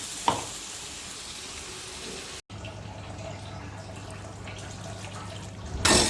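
Ground coconut paste is poured into a hot pan for goat head curry, setting off a steady, close sizzle that continues after a brief break.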